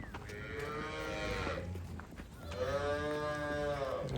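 A desi cow moos twice, each call a long, loud, close bellow, the two separated by a short pause.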